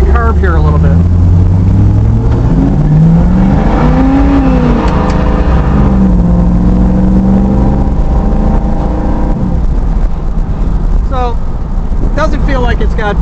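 A carbureted small-block Chevy V8 in a 1970 Chevelle SS 350 drones and climbs in pitch as it accelerates, loud and close. Someone talks over it most of the way.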